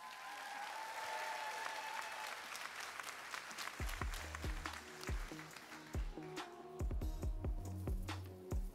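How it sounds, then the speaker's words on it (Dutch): Audience applause for the ten finalists at the Miss Nederland 2022 pageant show, a steady dense clapping that runs throughout, with rhythmic low music beats entering partway and continuing under the clapping. "En graag een hard applaus voor onze tien finalisten."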